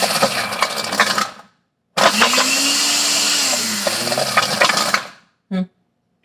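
A blender chopping ice for a Blue Hawaiian cocktail runs loud in two bursts separated by a brief stop, its motor pitch wavering, followed by a short final pulse.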